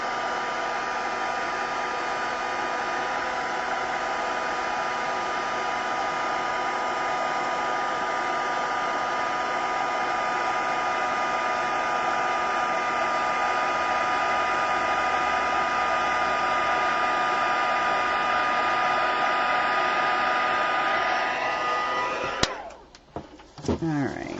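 A heat embossing tool blows hot air over a card as a steady, loud whirring rush for about 22 seconds, then cuts off abruptly with a brief clatter of handling.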